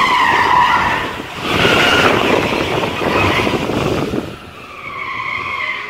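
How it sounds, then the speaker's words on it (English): An electric car skids hard while driven under power and braking on a test run, with loud sustained tire squeal rising and falling over several seconds before easing off. "So we're skidding"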